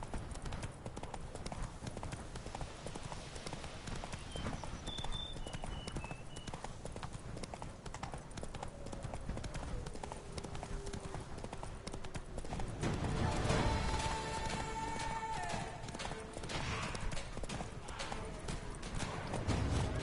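A horse clip-clops at a steady gallop in The Witcher 3: Blood and Wine, its rhythmic hoofbeats continuous and moderately close, with faint game ambience, a brief whinny-like tone and a short spoken word mixed in.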